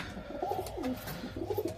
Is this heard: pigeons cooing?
yes